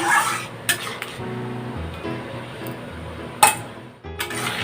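Bitter gourd and chillies stirred in a cooking pot for a bitter dal: uneven scraping and light metallic clinks of a spoon against the pot, with one sharper clank partway through.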